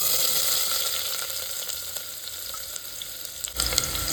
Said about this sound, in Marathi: ते आपला तेल तापला आहे, तर आपण प्रथम कांदा टाकून घेऊया